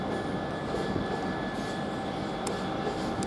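A cement freight train rolls through Doncaster railway station, a broad steady rumble of wagons and engine noise with a faint high whine, continuous and moderately distant, with no speech.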